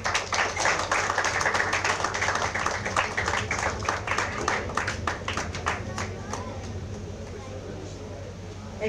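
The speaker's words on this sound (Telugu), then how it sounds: "క్లాప్స్ కొట్టండి." An audience at a Baptist church Christmas celebration in Hyderabad claps in a dense burst of many hands that gradually thins out, with voices murmuring underneath.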